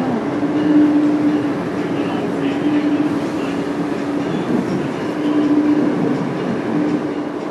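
A passenger train rides through a tunnel toward Penn Station, a loud steady rumble of wheels and carriage with faint rail squeal, while a voice talks quietly over it.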